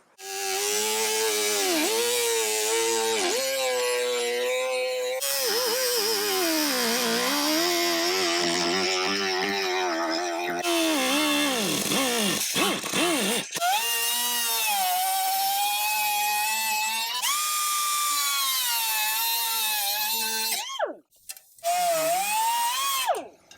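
A power tool cuts steadily through the sheet-metal fender of a Jeep Cherokee XJ being trimmed to fit 33-inch tires, making a loud, continuous high whine that wavers in pitch as the cut proceeds, with a short break near the middle.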